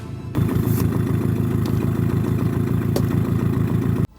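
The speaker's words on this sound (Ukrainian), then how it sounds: "Прогриваємо моторчик" The outboard motor on a Navigator WIND 360 inflatable boat warming up at idle, a loud, steady, close chugging drone that runs unbroken for about four seconds before cutting off abruptly.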